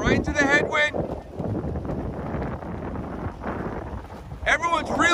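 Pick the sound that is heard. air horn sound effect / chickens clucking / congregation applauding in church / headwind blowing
headwind blowing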